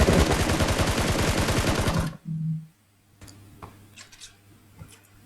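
Rapid automatic gunfire in the PUBG battle royale game, a loud sustained burst of closely spaced shots lasting about two seconds, then a short thud and sparse quieter clicks and distant shots afterward.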